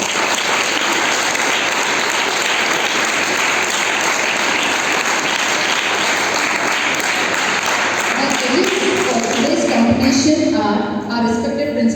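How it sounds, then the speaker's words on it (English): A school audience gives loud, sustained applause to welcome classes competing in a carol singing contest. The clapping fills the hall for most of the stretch, then gives way to speech and music near the end. "Let us welcome them all with a huge round of applause."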